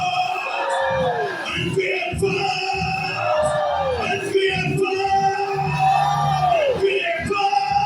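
A church congregation shouting "force" together in repeated loud, drawn-out unison yells, rising and falling in a steady rhythm with a leader's voice over the crowd.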